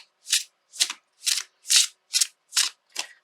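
Coated Mantra Oracle cards being shuffled by hand, seven quick crisp riffling bursts in a steady rhythm, close and fairly quiet with no talking.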